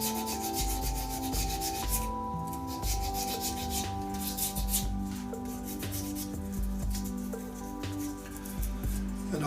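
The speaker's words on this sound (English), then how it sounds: "it's the sanding that makes or breaks your work" Sandpaper rubbing a hybrid resin and wood shaving brush on a lathe, continuous abrasive scratching over a steady machine hum, close and unbroken throughout.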